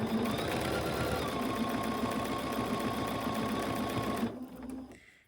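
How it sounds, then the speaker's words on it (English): A sewing machine top stitches along the edge of a fabric mask, its motor whirring steadily and close for about four seconds before stopping abruptly and leaving a short, quieter tail. "So then I just go and I top stitch along the edge of this"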